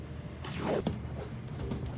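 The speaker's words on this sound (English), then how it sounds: "As we need to tape this piece down." Adhesive tape pulled off a roll to fix a fabric piece flat for puff painting on a Spider-Man suit, a short close ripping zip rising and fading, quiet and alone.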